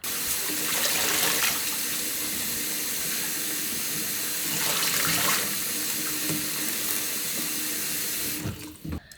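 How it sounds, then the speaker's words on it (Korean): Young radish greens rinsed under a running kitchen tap, a steady close hiss of flowing water and splashing in a sink that continues for about eight seconds before it stops abruptly. "이거를 흐르는 물에 두 번 정도 씻어주시면 돼요"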